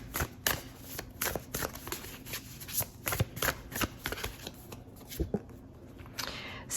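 Tarot cards are shuffled in soft, rapid riffles and slaps, a close, quiet stream of papery flutters with irregular louder snaps throughout.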